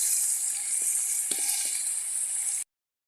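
Goat meat frying in oil with chili and onion, giving a steady, loud, high sizzle with a few faint clinks of stirring, then a sudden cut to silence.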